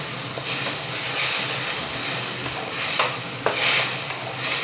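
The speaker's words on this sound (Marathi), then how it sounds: "आपल्याला हे प्युरी छान परतून घ्यायची आहे" Tomato purée sizzling in a pan while a spoon stirs it, giving a steady frying hiss with a few scraping strokes, close and moderately quiet.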